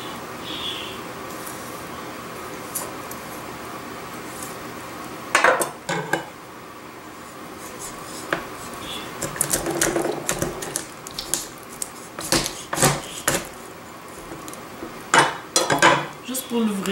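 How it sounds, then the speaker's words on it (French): Knife cutting through duck breasts on a board, scattered sharp taps and clacks in bursts over a quiet kitchen background, close. "Si j'ai mes deux belles poitrines, je vais le couper dans le milieu des poitrines."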